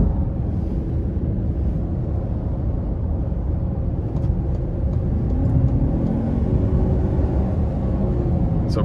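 The 2.0T engine of a 2023 Lincoln Nautilus Reserve in sport mode gives a steady, heavy engine rumble from inside the cabin, with road noise and a slight rise in revs toward the end.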